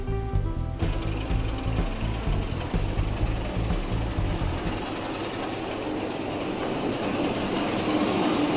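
A model train locomotive running along a track with a steady mechanical whir and rumble, a brief tonal hum at the start, no voices.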